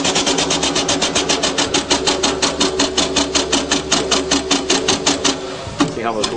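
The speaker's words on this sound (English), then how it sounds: "with a steam engine like this, although it's only 2 cylinders, you have the same power impulses as you have on a V8" Two-cylinder steam engine running on compressed air, chuffing in a fast, even rhythm of sharp exhaust beats, close and loud, ending with a brief hiss and a voice at the end.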